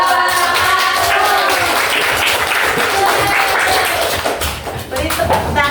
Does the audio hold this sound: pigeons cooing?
no